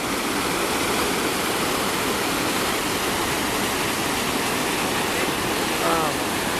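Waterfall heard from right underneath, a loud continuous roaring rush of falling water that fills the whole scene without letup.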